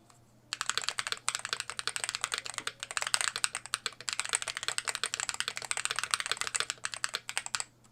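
Typing on an MCHOSE ACE 68 Turbo Hall Effect keyboard, a steady run of quick, crisp keystroke clicks close up, with a short pause midway and no talk.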